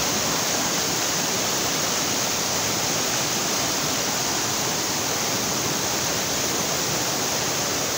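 Mountain stream water rushing steadily under trees at a natural spring, a loud, continuous broadband roar with no pauses, close by and alone without any talking.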